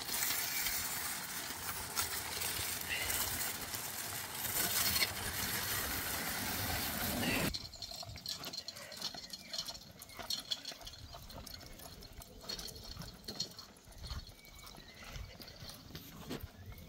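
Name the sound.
collapsible wagon wheels rolling on gravel and grass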